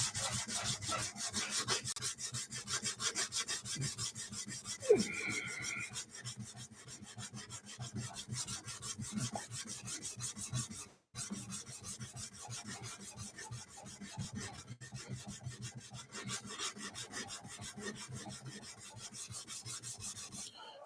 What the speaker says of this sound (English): I will be sanding on this until midnight at this stage